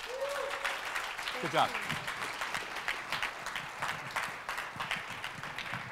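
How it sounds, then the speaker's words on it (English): Conference audience at a Toastmasters speech workshop applauds throughout, a steady broadband clatter of many hands, with a voice briefly speaking over the clapping near the start. "Round of applause"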